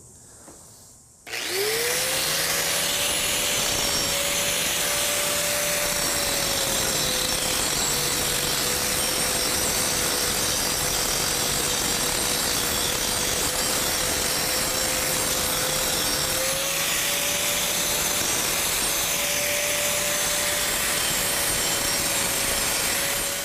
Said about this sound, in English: I'm going to do a little bit more grinding here, and a bit more sanding of some of this stuff off